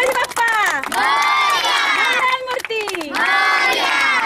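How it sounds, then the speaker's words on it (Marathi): An audience at a Ganesh festival gathering roars and cheers loudly and continuously, with shouts rising and falling in a dense wall of voices. "एकदा जोरदार टाळ्या होऊन दे."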